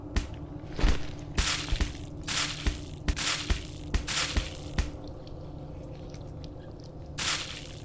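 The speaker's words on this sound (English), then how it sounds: "Red liquid is gushing out." Red liquid gushing in The Cat Lady horror game, a series of wet, squelching bursts and crunching splashes in irregular clusters, then fading to a quieter stretch before one last surge.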